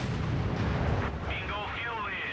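Company of Heroes 3 battle as P-47 aircraft strike a StuG D: rumbling artillery blasts and explosions under an excited commentator, with a whistling swoop near the end.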